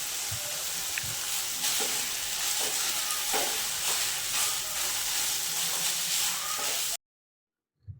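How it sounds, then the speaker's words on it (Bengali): Gobindobhog rice being stirred in a hot pan with ginger-chili paste for basanti pulao, giving a steady close sizzle with soft scraping stirs throughout, then cutting to near silence before a brief knock. "এবারে ভালো করে পোলাওয়ের রাইসটাকে আমরা ভালো করে নাড়িয়ে নেবো গোবিন্দভোগ চালটিকে"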